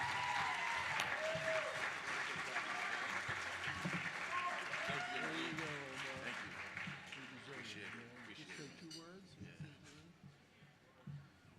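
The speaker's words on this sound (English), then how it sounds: "Give a round of applause to Omar Jackson." Applause from an audience at a 2018 gala, loud and sustained with voices and cheers mixed in, gradually thinning out toward the end.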